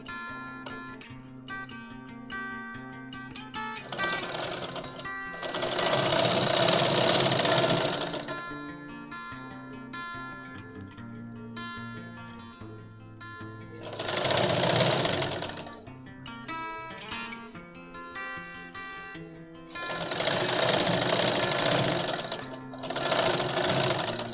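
A domestic sewing machine stitches the side seams of a straight pant in three loud, rapid bursts of whirring needle action, separated by quieter pauses with faint handling noise.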